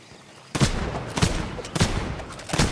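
Rapid gunfire bursts from a Ratling gunner in Warhammer: Vermintide 2, several loud sharp volleys repeating close by after a brief quiet start, alone without talk.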